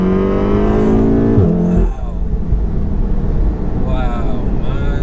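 A 600 bhp VW Golf R engine pulls hard under acceleration, loud and close from inside the car, its rising harmonics breaking at a gear change before the roar builds again while people talk over it.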